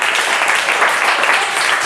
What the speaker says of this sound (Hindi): कोई बढ़िया बात पे तालियां बढ़िया बजाया करो जब मन बने